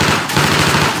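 Rapid machine gun fire in Left 4 Dead 2, a dense, continuous burst of loud close shots with a fast rattling rhythm throughout.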